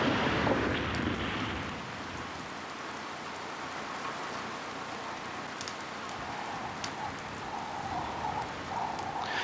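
Steady rain pours down across an ash-covered landscape during the onset of a rainy season, a dense, even hiss of drops with a faint rumble underneath, continuous and unbroken with no voices.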